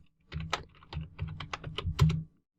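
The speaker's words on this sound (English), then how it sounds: "So let's type that in." Login credentials are typed on a computer keyboard in a quiet room, a close run of about a dozen crisp key clicks in uneven bursts over two seconds.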